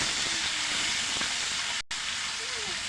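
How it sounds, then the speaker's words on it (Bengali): Tilapia pieces frying crisp in hot oil give a steady, broad hiss throughout, with one brief dropout midway and faint tonal traces underneath; no voices. "কড়া করে ভেজে নিব মাছগুলো"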